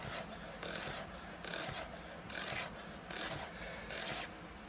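Kitchen knife thinly slicing food on a cutting board with the blade guided by the knuckle, a series of short rasping strokes in a steady repeated rhythm, close and moderately loud.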